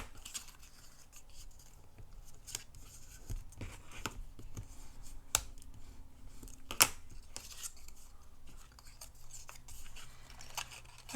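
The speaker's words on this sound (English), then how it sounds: "So I'm just going to fold it and burnish it down well." Paper for a handmade mini-folder is folded and burnished flat, giving soft scraping and brushing strokes with scattered light taps and crisp snaps. The sounds are close and fairly quiet, with no talking.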